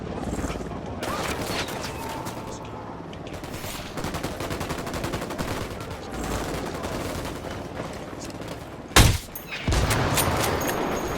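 Sustained gunfire in the tactical shooter Ghost Recon Wildlands, dense rapid automatic bursts with heavy low rumble throughout and a sharp louder blast near the end, with voices talking underneath.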